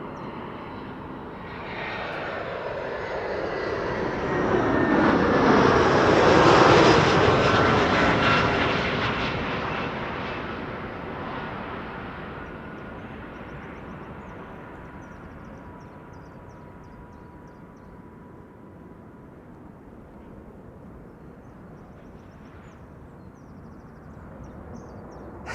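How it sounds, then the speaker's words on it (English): An Iberia Express airliner arriving from Madrid at Amsterdam Schiphol, a jet roar that builds, peaks loudly around the middle with a whining engine tone, then fades into a long distant rumble. "it's Iberia Express arriving from Madrid"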